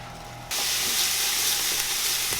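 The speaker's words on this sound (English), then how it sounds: "our onions and garlic is sweating out really nice" Onions and garlic sweating in oil that was not steaming hot in a pan, cooking for homemade Italian meatballs; a loud, steady sizzle and hiss begins abruptly and holds close up, with no talking.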